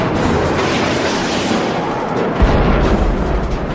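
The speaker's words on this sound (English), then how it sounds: "So I launched the missile," Heat-seeking Shafrir 2 air-to-air missile launched in a Yom Kippur War dogfight, heard as a loud continuous roaring rumble with a sharper thump partway through, dense and steady throughout.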